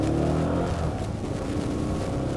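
A Lexmoto Venom 125cc motorcycle engine revs with a deep, steady growl. The sound is close and continuous, with slight swells in pitch and no speech over it.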